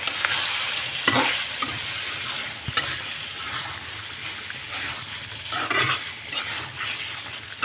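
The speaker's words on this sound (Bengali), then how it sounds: "একটু নাড়া দিয়ে দেব।" Food sizzles in a hot pan as a spoon stirs it, bright frying hiss with scraping, clinking strokes against the metal, close and fairly loud throughout.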